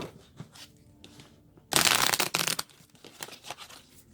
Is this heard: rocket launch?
no